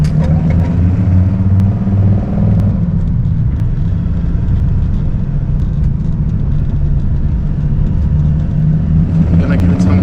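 A 1997 Dodge Viper GTS cruising at normal pace gives a steady, deep engine rumble with road noise, loud and close from inside the car, with no clear revving.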